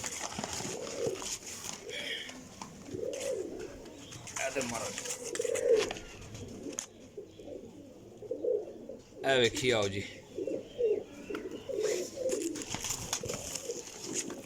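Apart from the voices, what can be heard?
pigeons cooing, golden pigeon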